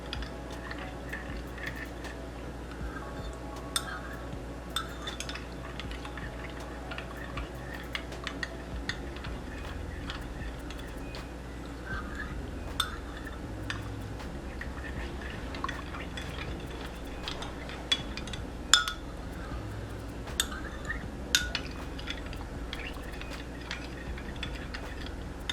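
A spoon stirs a drink in a cup, giving light, scattered clinks and soft liquid swirling over a steady low hum, with no talking.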